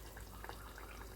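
Adirasam sweets made from store-bought rice flour frying in hot oil, heard as a faint, steady bubbling sizzle throughout.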